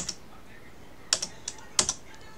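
Typing on a computer keyboard while working on a municipal location map, a few sharp close key clicks spaced irregularly over quiet room tone.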